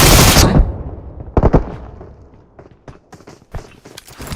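Gunfire in a mobile shooter game like PUBG Mobile, a loud opening blast followed by scattered sharp shots and short bursts with quieter gaps, no clear talk.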